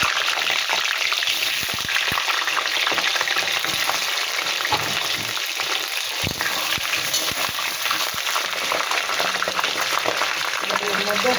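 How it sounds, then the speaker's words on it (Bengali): Potato pieces fry in hot oil in a wok, giving a loud, continuous sizzle and bubbling hiss close by, with scattered clinks of stirring throughout. "এই কড়াই তেল দিয়েছি। এই তেলের মধ্যে আমি এই আলুগুলো"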